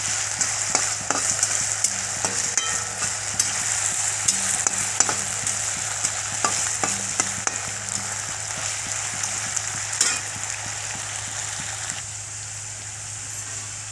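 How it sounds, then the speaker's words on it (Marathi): Potatoes sauté in a pan for a fasting khichdi, a dense continuous sizzle like light rain with frequent sharp clicks and scrapes of stirring throughout, close and steady, no voices. "आता आपल्याला हे बटाटा परतून घ्यायचा आहे."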